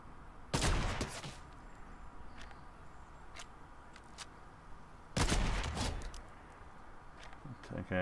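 Two bursts of gunfire in the video game Fortnite, each a loud sharp crack followed by a rattling tail, with faint scattered clicks and shuffling between them.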